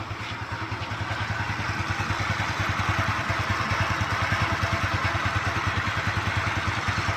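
A Kymco Easy scooter engine idles steadily up close with a fast, even putter and a light clattering tick running through it, holding a constant level throughout with no voices.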